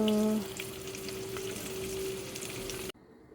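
Bacon frying in a pan, a steady dense sizzle that runs continuously for about three seconds and then cuts off abruptly, with faint tonal hum at the start.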